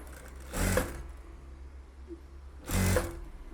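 Two short bursts of a sewing machine stitching a blouse back neck border, each a quick whirring run of about half a second, separated by quiet pauses.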